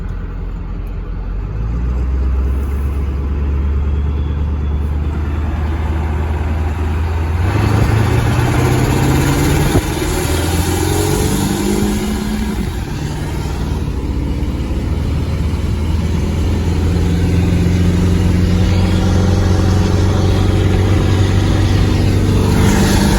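A 7.3 diesel truck engine drones steadily at close range while driving, a loud continuous low rumble with gear shifts and rising and falling pitch throughout, with no talk over it.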